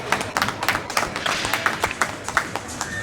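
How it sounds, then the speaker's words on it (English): Team mothers at a youth hockey game clap close by, a small group's sharp, uneven claps in quick succession over rink ambience. "Applause from the Blues mums."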